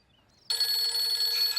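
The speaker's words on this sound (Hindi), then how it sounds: "किसका फोन आ रहा है भाई?" Telephone ringing, a sudden, loud trilling bell that starts after a brief quiet moment and keeps ringing steadily.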